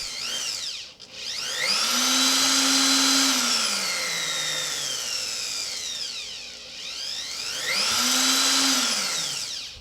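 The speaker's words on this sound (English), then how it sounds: "What is super cool about this rotary tool, that Footswitch gives you complete control of this tool." A heavy-duty Dremel rotary tool whines at close range, its speed varied by a footswitch, ramping up to a high steady scream, easing down, then spinning up again.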